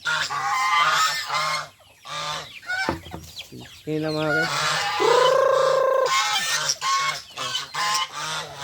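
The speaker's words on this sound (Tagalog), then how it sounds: "Mga gansa." Geese honk repeatedly at close range, loud nasal calls overlapping with someone talking over the flock.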